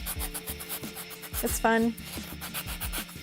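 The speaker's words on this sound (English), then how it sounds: "Here's me sanding. There you go. Yeah, it roughs it up." Sandpaper rubbing back and forth over a small miniature model piece, a steady rough scratching with short strokes, up close under some background noise and a brief quiet remark.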